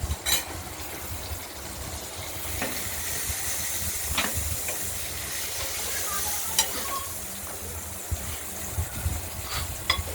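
Steady sizzling of halved pointed gourds frying in hot oil, with occasional clinks and stirring scrapes, close and continuous throughout.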